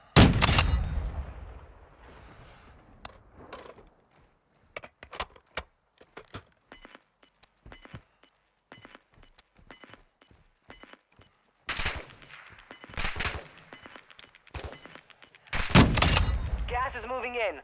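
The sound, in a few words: gunfire in the video game Warzone 2.0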